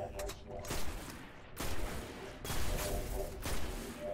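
Bursts of video game gunfire during a raid as a small grate is shot: four loud, dense volleys of rapid shots roughly a second apart, each with a short decaying tail.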